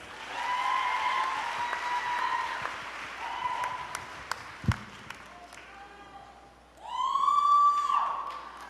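An audience at an honors convocation claps for students: a burst of applause that fades, with a loud thump midway, then a second swell of clapping and tonal whistles near the end.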